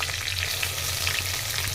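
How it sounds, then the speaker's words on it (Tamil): Steady crackling sizzle of chopped small onions sautéing in hot oil, close and continuous, with no voices. "நல்லா எண்ணெயில் வதக்கிட்டு நம்ம வெட்டி வச்சுருக்கிற சின்ன வெங்காயத்தை சேர்த்துக்கலாம்"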